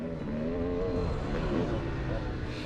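A 2-stroke dirt bike nicknamed the Black Panther revs steadily on a motocross warm-up lap, a continuous buzzy engine drone with slight pitch rises, close and loud throughout.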